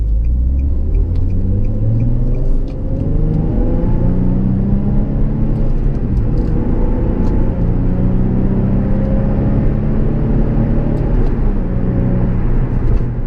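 Nissan 350Z engine rumbling loud and close with the rev limiter set around 4,000 rpm, its steady drone rising and falling through repeated revs over the whole stretch.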